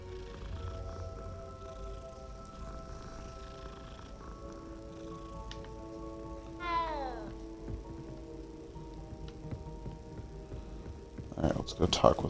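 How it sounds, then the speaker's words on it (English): Cats meowing in the video game Hogwarts Legacy, a couple of short rising meows heard over steady game music, with a brief burst of other noise near the end. "And you can pet the kitties."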